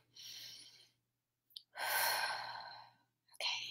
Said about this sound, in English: So deep breath.